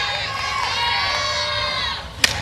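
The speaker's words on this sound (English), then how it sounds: "The crowd getting loud here as Penn State is closing in on a first-round upset here." A women's college softball crowd at Penn State versus Iowa cheers loudly and shrilly in a sustained roar, easing slightly near the end before a sharp crack cuts through.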